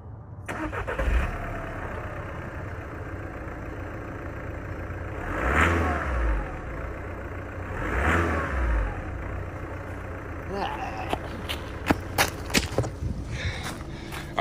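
A 2012 VW Golf MK6 TDI diesel with downpipe and EGR delete idles, then is revved twice in short swelling bursts, followed by quieter idle and a few sharp clicks, close by.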